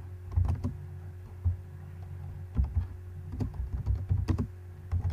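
Keys on a computer keyboard are struck in short clustered bursts while MySQL code is entered, the clicks close and fairly heavy over a low steady hum.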